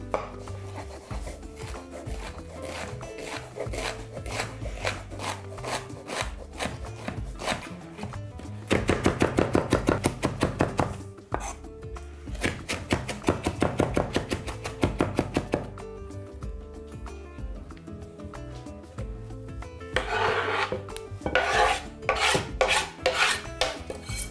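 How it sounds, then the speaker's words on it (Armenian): Rapid, steady knife chopping of fresh herbs (coriander, basil, dill, mint) on a board, a dense run of quick close taps with a few louder bursts, no voices. "մանր կտրատում և ավելացնում ենք։"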